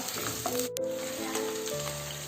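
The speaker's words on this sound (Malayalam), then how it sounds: "ഞാൻ നന്നായിട്ടൊന്ന് വഴറ്റിയെടുക്കാം." Onion sautéing in a pan for a dhaba-style green peas masala, a steady close sizzle and crackle of frying with faint tonal hum underneath, continuing evenly throughout.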